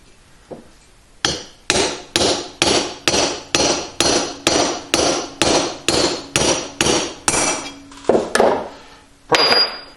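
A hammer drives valve guides into a Harley cylinder head with about fifteen sharp, evenly spaced metallic blows, loud and close, after a few soft taps and before a final pair of strikes.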